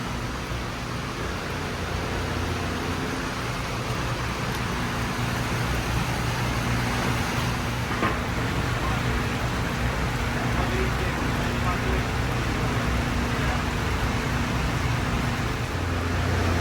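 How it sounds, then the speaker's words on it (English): Heavy rain pours steadily over a racetrack's flooded tech zone at a CARS Tour Throwback race, a dense, continuous hiss with low rumbling underneath that holds at an even level throughout. "This rain keeps coming down like it has."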